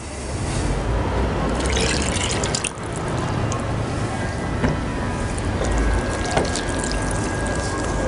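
Water poured into a bowl of vegan açaí cake batter after the oil, a steady wet pouring and splashing sound running close and fairly loud for several seconds, with a few clicks and knocks of kitchen utensils.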